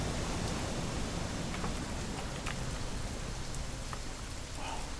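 Rain falls steadily in What Remains of Edith Finch, a constant wide hiss with scattered drop patters, soft and even throughout.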